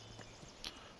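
Horse hooves clip-clopping at a slow walk while riding in Farming Simulator 19, a faint, soft rhythm of steps under steady low background game sound.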